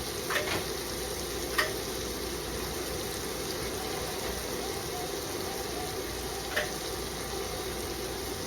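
Shrimp sear in a hot pan with a constant, moderately loud sizzle and hiss, marked by two sharp clicks from the pan along the way.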